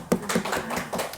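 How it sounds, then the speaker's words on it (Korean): A handful of scattered claps from a small audience at a Buddhist lecture on the Diamond Sutra, soft and roomy, a few uneven claps in quick succession. "좀 박수 한번 쳐줍시다."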